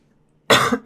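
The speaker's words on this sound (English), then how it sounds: "I've had an awful cough" After a brief quiet moment, a sharp, loud cough bursts out, quickly followed by a second one.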